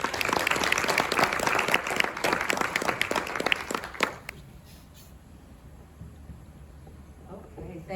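An audience applauds to welcome an author to a reading, a dense round of clapping that fills the room for about four seconds and then stops abruptly, leaving quiet room tone.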